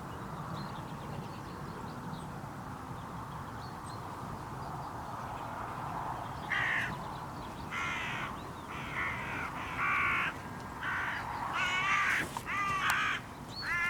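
Wild crows cawing back at a Nordic crow call in the open countryside, a run of harsh, repeated caws at mid distance rising over a steady rumbling background.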